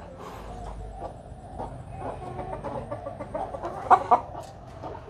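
Chickens cluck softly and irregularly close by, with a couple of louder, sharper clucks standing out near the end over a low background hum.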